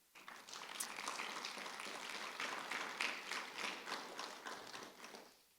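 A church congregation clapping together in sustained applause for several seconds, dense and even, rising briefly before fading out.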